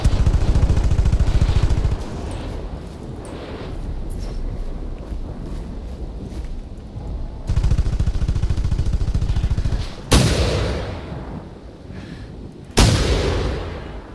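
Repeated bursts of gunfire while hunting dinosaurs in theHunter: Primal, heavy rumbling volleys with quieter gaps, and two sharp loud blasts near the end.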